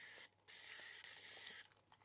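Close spray bursts of alcohol misted onto resin during resin art work, two broad hissing sprays separated by a short pause, followed by a few faint taps.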